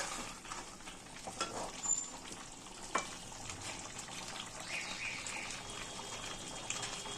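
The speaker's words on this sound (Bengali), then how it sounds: "মশলাটা ভালো করে মিশিয়ে নেব চিকেনের সঙ্গে।" Chicken being mixed with masala in a pan, a steady close sizzle with wet stirring and scraping of a spatula, plus a few sharp knocks against the pan.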